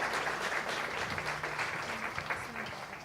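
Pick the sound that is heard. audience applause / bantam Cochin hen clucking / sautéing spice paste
audience applause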